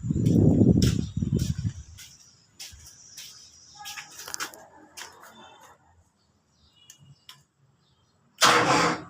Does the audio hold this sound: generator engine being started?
yes